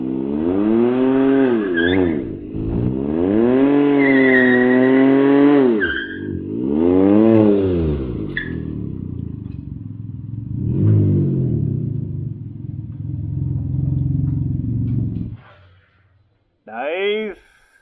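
A Can-Am Ryker with an aftermarket exhaust revs in several rising and falling bursts and then settles into a lower steady burble as it drives. It is close and fairly loud, and there is a short pause near the end.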